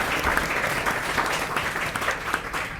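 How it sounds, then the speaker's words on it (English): An audience at an event bursts into a round of applause, dense and sustained clapping filling the room throughout. "deserves a big round of applause"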